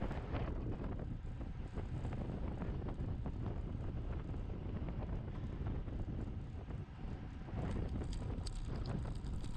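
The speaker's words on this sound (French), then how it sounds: "le vent vient de la droite" Wind roars past a cyclist during a road race in Callenelle, a loud, constant buffeting rush across the microphone that runs throughout with no voices.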